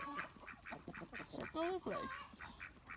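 A backyard chicken clucks in repeated rhythmic cackles after laying an egg, fairly near, while a person speaks briefly over the sound.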